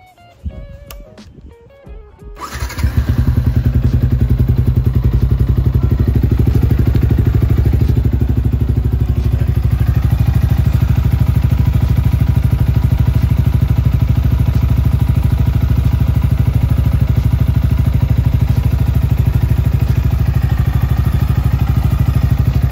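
Motorcycle engine fitted with a newly installed MVR1 adjustable exhaust starts up after some clattering, then settles into a loud, steady, close idle drone that runs on without pause, with no one speaking.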